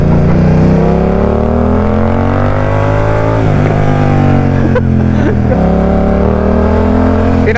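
A BMW F900R motorcycle engine accelerates hard, heard loud and close from the rider's position, with rising and falling revs through gear changes and constant wind roar.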